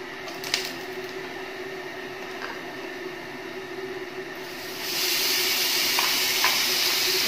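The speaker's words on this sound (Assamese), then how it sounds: "এইখিনি এতিয়া অলপ সময় এনেকৈ ভাজিব লাগিব।" Ginger-garlic paste and onion paste fry in a pan for chicken curry, giving a steady close sizzle and hiss that swells louder and brighter partway through, with a few faint stirring clicks.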